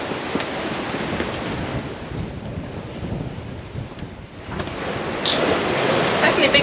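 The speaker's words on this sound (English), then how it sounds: "Definitely bigger waves today." Ocean waves and wind buffet a sailing catamaran at sea, a loud rushing roar with surging swells and gusty microphone wind that eases briefly, then builds again.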